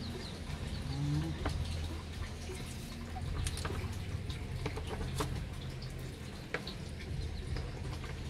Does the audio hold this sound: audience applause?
no